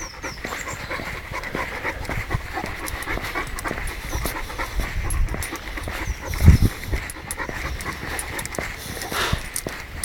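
A dog pants close by in quick, steady breaths while being trained to heel, with a soft thump partway through and no talking.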